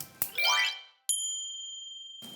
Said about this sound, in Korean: 카톡이 왔는데